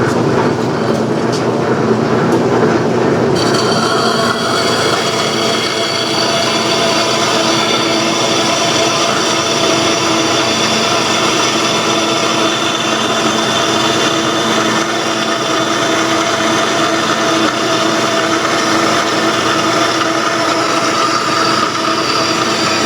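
A power saw with a 1/4-inch blade cuts a marked part out of metal on a Briggs 5S engine build, a loud, continuous whining rasp that holds steady for a long stretch without pause.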